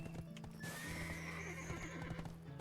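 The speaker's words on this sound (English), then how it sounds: "We're gonna ride our horse right in there." Horse hooves clip-clop steadily as a mount is ridden in the game Black Desert Online, with a whinny and neigh rising over the trotting rhythm, close and fairly loud against a humming game backdrop.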